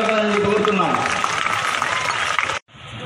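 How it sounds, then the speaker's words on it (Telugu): Children clapping in welcome at a girls' school in Kadiri, Anantapur district, a dense continuous patter of many hands with voices mixed in, cutting off abruptly near the end before resuming faintly. "పిల్లల చప్పట్లతో కరతాళాలతో స్వాగతం పలకాలని కోరుతున్నాం"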